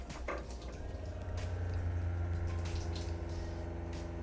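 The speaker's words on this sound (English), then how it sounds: "Okay, so this has pretty good water flow." Water running steadily from a reverse osmosis faucet in an RV, a quiet continuous flowing hiss with a low pump-like hum beneath, faint and without talk.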